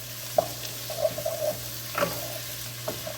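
A spoon stirring hamburger stroganoff with mushrooms in a pan, soft scraping strokes over a low steady sizzle, quiet and close with a few sharper clicks.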